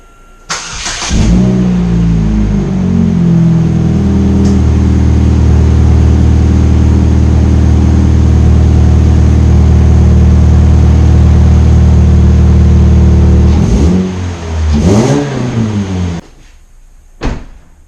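A Chevrolet HHR engine cranks and starts after new spark plugs and wires, then idles smoothly and steadily at close range for about twelve seconds before a door or lid thumps shut near the end.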